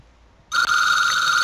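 A telephone starts ringing abruptly after a brief quiet moment, a steady electronic ringtone that carries on clear and fairly loud to the end.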